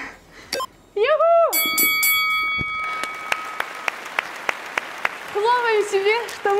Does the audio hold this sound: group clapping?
yes